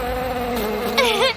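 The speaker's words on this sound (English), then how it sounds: "It's a bee!" A cartoonish bee buzzes in a makeover video game, a close, steady insect drone that briefly rises in pitch and loudness near the end, heard alone without talk.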